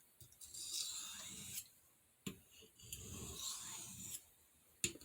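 A knife blade is drawn across a sharpening stone with light pressure in a cheap sharpening setup, making soft rasping strokes in a few separate passes, each ending in a brief scrape, close by with no talk.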